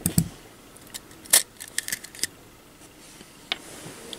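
Scissors snip lengthwise along a thin vape mesh coil strip, giving a few sharp, close metallic clicks spaced irregularly over a quiet background.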